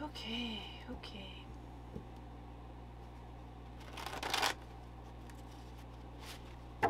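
Soft rustling and riffling, like cards being shuffled, with a quick burst midway and faint murmuring in a quiet room.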